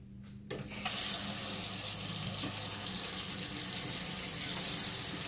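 After a brief quiet moment, warm water gushes from a tap into a sink and runs steadily and fairly loud at close range, with no voices.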